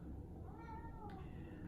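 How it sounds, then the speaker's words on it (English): A cat lets out a single faint, drawn-out meow indoors, heard over steady low background hiss. "That's my cat yelling again."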